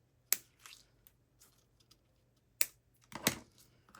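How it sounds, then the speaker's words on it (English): Cardstock for a handmade thank-you card being trimmed, with a few sharp, close snips and cuts spaced across a quiet workspace, two louder crisp strokes standing out among lighter rustles. "I'll trim that."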